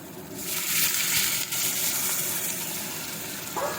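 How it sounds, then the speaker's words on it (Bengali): Water pours steadily into pakora batter of mixed spices, potato and cauliflower, a loud, close, splashing hiss lasting several seconds with no voices. "এবার আমি জলটা দিয়ে দেবো"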